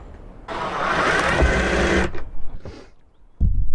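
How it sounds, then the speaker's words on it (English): A power drill drives a screw into a seat hinge in a DIY Peugeot Boxer L2 H2 camper van conversion, a loud whirring burst of about a second and a half, then a brief lower spin and a short final buzz. "we just again want a brad hole in there, and we'll get one of the screws in"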